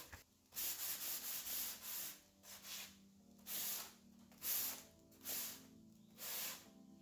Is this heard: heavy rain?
no